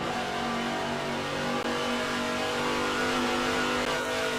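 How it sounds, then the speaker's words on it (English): A five-litre V8 Holden VK Commodore Group C touring car in the rFactor2 racing game roars at full throttle around Bathurst, a loud, steady high-revving engine drone running continuously with no talk. "And give it everything this V8 has got. 5 litres of throbbing holding power. Listen to the sound of it."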